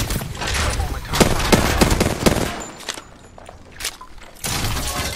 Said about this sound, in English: Some flunkers shooting at me. I'm taking fire.